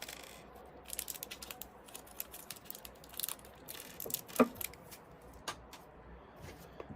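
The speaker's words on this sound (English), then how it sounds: "Get our screws out." Small metal screws for a DeAgostini 1/8 scale Ford GT40 model are tipped out and handled, giving light scattered clicks and tinkles close by, with a brighter metallic rattle in the middle.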